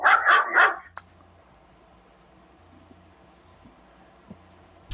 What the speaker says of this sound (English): Apparently that's the cutest scary bark ever